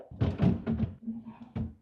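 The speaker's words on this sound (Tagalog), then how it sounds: "at least yung drawer ng freezer nahihila siya ng diretso" Freezer drawer in a condo kitchen slid open with a few dull thunks and a short scraping glide, close and moderately quiet, without talk.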